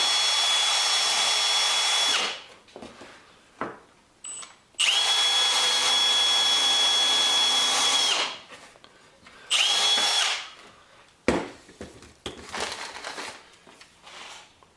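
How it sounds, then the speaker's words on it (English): A power drill bores through knotty 2x1 timber in several bursts of high whine, each lasting a few seconds, separated by quiet pauses and small knocks. "that knot did make for a little harder drilling"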